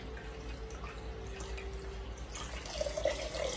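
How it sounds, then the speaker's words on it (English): Homemade coconut milk drips and trickles from a twisted cloth bundle of coconut pulp. Soft, faint drips fall close by over a quiet background, and the liquid runs more steadily near the end. "And then I just gather it up at the top and start twisting it around."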